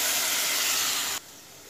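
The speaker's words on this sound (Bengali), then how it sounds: "এবার আমি এর মধ্যে জলটা অ্যাড করে দেবো।" Hot water poured into a pan of rice frying with spices, a loud steady sizzling hiss that cuts off abruptly to a quieter simmer, no voices.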